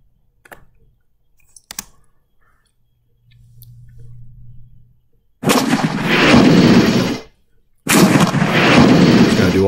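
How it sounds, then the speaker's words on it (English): Tank gun fire in the computer war game Armoured Commander II, beginning with a few faint clicks and a low hum, then two loud, long booming cannon blasts separated by a brief silence. "So we're going to go ahead and fire again, and we hit again."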